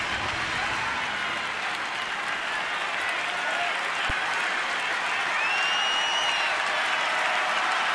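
Dense, steady roar of a baseball stadium crowd of nearly 35,000 in the 8th inning of a Detroit at Washington game, with sustained cheering and applause throughout, loud and enveloping, with no talk.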